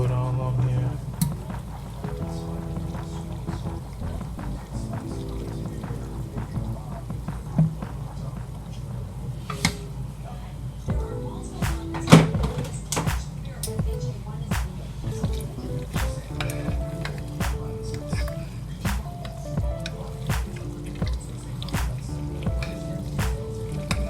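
Vegan cheese sauce poured over macaroni, wet squishy drips and gloopy splats of thick liquid scattered irregularly, close and fairly soft, with a few louder plops along the way.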